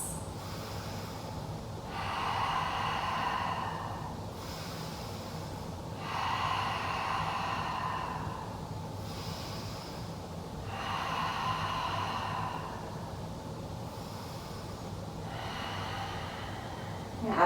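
Slow, deep breaths during a yoga flow, long audible inhales and exhales alternating at a steady, unhurried pace, close to the listener with no talking.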